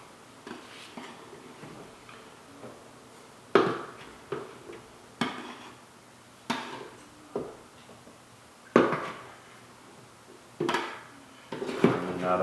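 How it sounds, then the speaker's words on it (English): Dry ingredients for pizza dough, including flour, are mixed in a bowl with a series of irregular knocks and scrapes as a utensil strikes the bowl's sides, close and moderately loud, with faint room noise between strokes. "now I'm going to mix all my dry ingredients"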